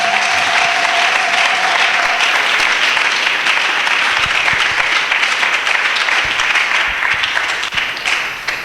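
A church congregation bursts into sustained applause, dense and steady clapping from a large crowd filling the room for several seconds before tapering slightly at the end.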